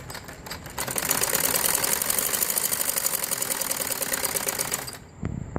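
A sewing machine stitches a band collar V neckline on a ladies' garment: a rapid, steady mechanical whir with a fast needle rhythm runs close and continuous, then cuts off near the end.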